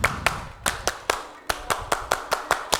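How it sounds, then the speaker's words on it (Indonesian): Indonesian scout clapping (tepuk pramuka) rings out in crisp, sharp claps grouped in a set rhythmic pattern, about a dozen in quick succession, with no talk over them. "1, 2, 3. Tepuk pramuka."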